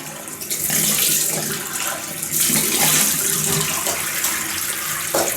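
Cold tap water runs and splashes steadily into a sink for several seconds while rinsing a taper brush, with some soft clattering.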